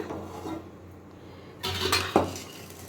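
A pan is handled on a kitchen stove while oil is poured into a kadai for making badusha, giving quiet scraping and rustling followed by a brief burst of metallic clatter and a sharp clank.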